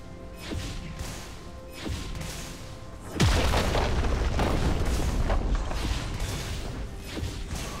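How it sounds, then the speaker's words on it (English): A turret destroyed in League of Legends, an abrupt heavy boom and crumbling crash after a few creaking mechanical knocks, followed by a sustained loud rumbling debris wash. "Your turret has been destroyed"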